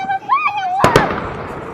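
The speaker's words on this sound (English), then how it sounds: "We're lighting off fireworks." Fireworks are set off outdoors, with a rising whistle followed by two sharp, loud bangs close together and a fading crackle.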